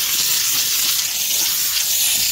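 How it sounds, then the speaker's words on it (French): Tornador steam cleaner releasing water and steam in a steady, close, loud hiss that holds evenly throughout with no pauses. "il y a de l'eau, un peu d'eau et de la vapeur"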